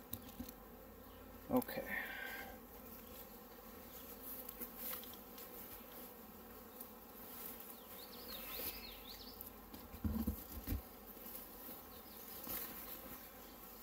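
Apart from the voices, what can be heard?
honey bees buzzing around hive frames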